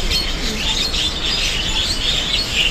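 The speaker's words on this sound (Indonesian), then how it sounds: "Banyak ini suara burung di atas." Birds chirp and twitter continuously overhead in Changhua, Taiwan, a busy chorus of small calls layered over steady outdoor background noise.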